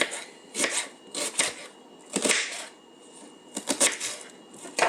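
Knife chopping garlic roughly on a board in short clustered bursts, with brief pauses between the rough strokes.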